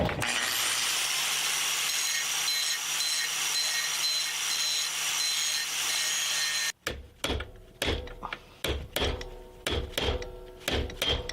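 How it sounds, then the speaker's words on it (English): Grinder whining steadily against the head of a metal chain pin for several seconds, then a series of sharp hammer blows punching the pin out, close and loud, no talking. "grind off the head, and then we'll just punch it out"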